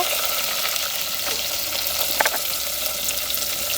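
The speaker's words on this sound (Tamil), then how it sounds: "அதோட பெருஞ்சீரகம் போடுறோம் தாங்க அதோட வெங்காயம் கருவேப்பிலை பச்சை மிளகா" Fennel seeds, onion, curry leaves and green chilli frying in a pan for a mushroom curry, making a steady hissing sizzle with a brief cluster of stirring clicks midway.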